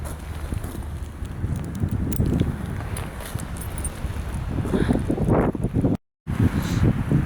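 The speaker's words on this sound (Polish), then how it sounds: "bardzo duży wiatr się zrobił" Strong wind buffets the microphone in steady, roaring gusts with low rumbling, briefly cutting out near the end.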